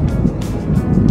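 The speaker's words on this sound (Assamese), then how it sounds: "সাগৰৰ যিটো চাউণ্ড আহে" Sea waves at Mandarmani beach give a brief, loud rumbling wash, mixed with gusty wind buffeting the microphone.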